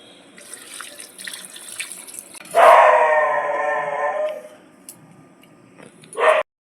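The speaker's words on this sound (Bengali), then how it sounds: "আর একটু জল দিয়ে দেবো" A little hot water poured into a simmering chicken curry with potatoes, heard as a loud, close rushing splash lasting about two seconds that tapers off, then a brief final burst of water, over quiet kitchen background.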